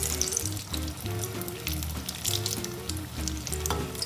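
Green gram dhal fritters fry in hot oil with a steady, close crackling sizzle, while a low rhythmic musical pattern plays underneath throughout.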